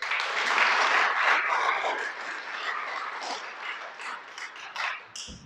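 Church congregation applauding at a sermon, a dense wash of clapping that stays loud through most of the stretch and thins toward the end, with no talk over it.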